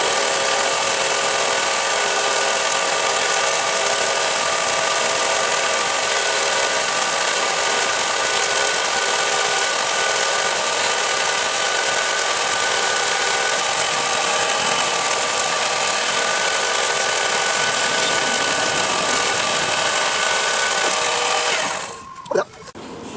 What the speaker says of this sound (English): So this is a Harbor Freight tiny lathe,